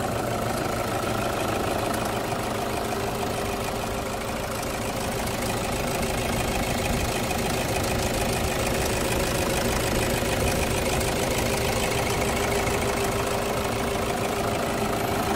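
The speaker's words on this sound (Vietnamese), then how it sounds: "đây là tiếng động cơ đang hoạt động đây" A 2014 Toyota Hilux diesel pickup engine idling steadily up close, with a constant rumble and rhythmic mechanical knocking throughout, no voices.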